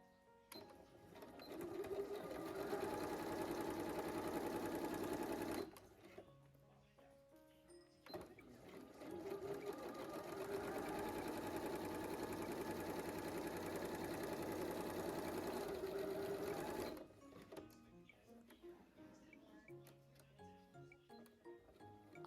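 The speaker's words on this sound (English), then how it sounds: "I top stitched all of my seams down to keep them clean." A sewing machine top stitches seams on Duchess satin and calico, running in two sustained bursts of steady whirring with a brief pause between and quieter handling sounds after.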